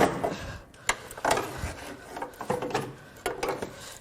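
A pry tool scraping and levering out the airbox of a fire-burned Mazdaspeed Miata, with melted parts: rough rubbing, creaking and grinding scrapes in uneven bursts, close and moderately loud.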